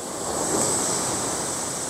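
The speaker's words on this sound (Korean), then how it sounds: "아 파도 되게 멋있게 이렇게 휘감아 치지 않아요?" Ocean waves crash and roll onto a seaside beach at a campground in the rain, a steady broad surf roar with some wind noise and no talking.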